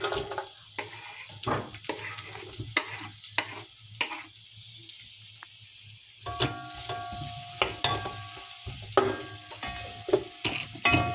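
Chopped onion fries for beef nihari, sizzling and crackling in a pot while a utensil scrapes and stirs, with intermittent clanks, running water-like hiss throughout, and no talking.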